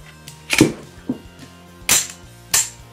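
Dry-fire test of a Smith & Wesson Victory pistol: a sequence of sharp mechanical clicks and snaps, with a slide release, a safety flick and a trigger fall, close and crisp against quiet.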